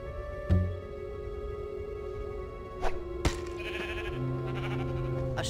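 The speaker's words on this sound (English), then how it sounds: "It is fluffy. Because it's a bloody sheep." Sheep in Minecraft: Story Mode bleat a few times in short separate calls over a quiet game backdrop of steady tones and small clicks, with no talking.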